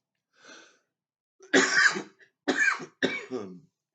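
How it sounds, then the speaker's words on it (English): A soft breath followed by three rough, close coughs in quick succession, loud and raspy, with silence around them. "I don't mean to cough so much"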